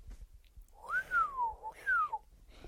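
A child whistles two short phrases, each sliding down in pitch, close by and fairly soft, with a quiet pause between them.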